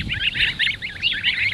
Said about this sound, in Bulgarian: Това е няма патица